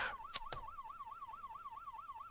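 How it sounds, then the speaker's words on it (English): A police car siren in the Police Quest 1 video game, a clear electronic wail rising and falling in a fast regular cycle after a couple of sharp clicks at the start, steady and moderately loud with no talking. "And once again, we can just use the lights and siren."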